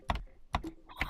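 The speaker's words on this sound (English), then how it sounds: "then type in these promo codes" Three quick, faint key taps sound in even succession as promo codes are entered in the video game Animal Company, short clicks close by with nothing else around them.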